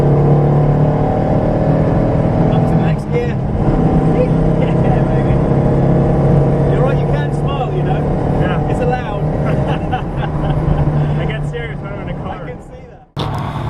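Porsche 912 driven around the Goodwood circuit, its engine droning and shifting through gears from inside the car, loud and continuous, with people talking over it and a sudden break near the end.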